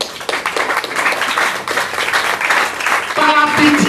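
A church congregation applauds in a loud, sustained wash of clapping mixed with raised voices, swelling slightly toward the end.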